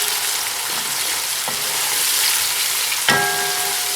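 Whole garam masala sizzling in hot oil for Kashmiri rogan josh, a steady close fry hiss with a few soft spoon scrapes as the spices are stirred, no voices.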